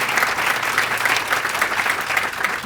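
An audience at a conservation land trust's 50th anniversary celebration applauds the interns: loud, sustained clapping from many hands, full and continuous without a break.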